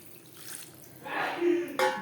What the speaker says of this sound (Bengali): কষিয়ে নেওয়ার পর দিয়ে দেব জল